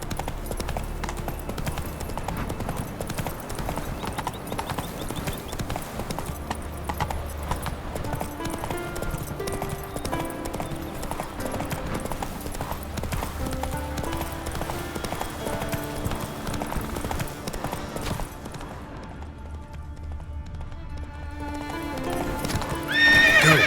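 The horse Roach galloping in the video game The Witcher 3: Wild Hunt Next Gen, with a continuous rhythmic clopping of hooves and occasional neighs, steady and close throughout.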